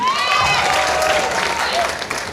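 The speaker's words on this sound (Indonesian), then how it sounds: "saya pengen dengar tepuk tangan yang paling meriah dari teman-teman SMK Negeri 10 Bandung." A school crowd at an outdoor kendang drumming showcase in Bandung applauds loudly and steadily, with cheering voices and whistle-like shouts over the dense clapping throughout.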